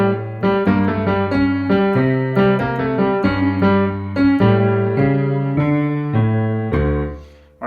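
A piano plays a melody with both hands at a slow tempo: low left-hand notes hold under a brighter right-hand line, each note ringing and fading. It is played alone, with no talking.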